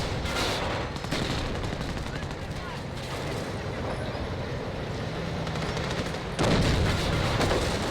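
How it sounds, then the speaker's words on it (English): Artillery barrages in the Company of Heroes video game rumble through a dense World War II battle with tanks, sounding as a muffled, continuous roll of booms and gunfire that swells louder near the end. "Artillery coming in to save the day for the British."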